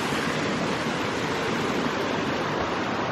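Floodwater from a creek over its banks rushes in a steady, dense roar that stays loud and unbroken throughout, with no voices.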